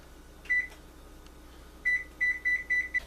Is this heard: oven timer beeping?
yes